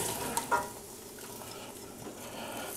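Onions, garlic and chilies sautéing in a pan for tomato soup, a quiet, steady sizzle broken early by a couple of clanks from stirring, with no speech.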